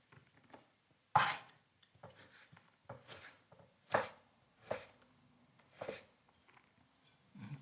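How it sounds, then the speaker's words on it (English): A knife slicing through fresh figs on a cutting board for a raw beetroot salad, giving about eight sharp, separate cuts in an irregular rhythm, close and fairly quiet, with no talk. "So I'm going to just slice it"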